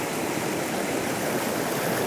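A stream flows steadily past at close range, its water rushing in an unbroken broadband wash for the whole stretch, loud and even with no voices over it.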